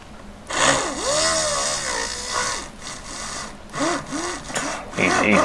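A small rotary burr cuts a center channel into a ring for stone setting, producing a whining, rising and falling tool drone in short bursts as the pressure on the metal varies, close and fairly loud.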